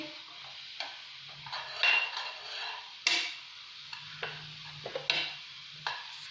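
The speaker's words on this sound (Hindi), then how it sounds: "अब हम इसमें पत्ती ऐड कर देंगे। अब हम इसको मिक्स कर लेंगे" Tea leaves being stirred into masala chai in a pot: scattered spoon scrapes and light clinks against the metal over a faint low simmer, moderately close and quiet, with no talking.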